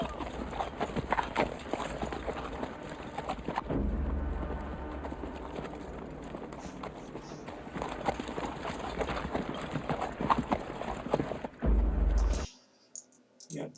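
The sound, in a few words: horses of English knights charging in the film Braveheart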